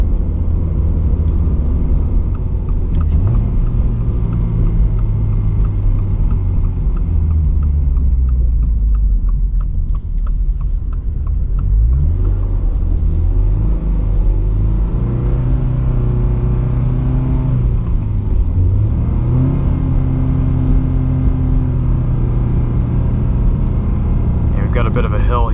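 Subaru BRZ on all-season tires driving up a snowy hill, its engine rumbling and revving steadily throughout with pitch rising and falling, someone talking over it.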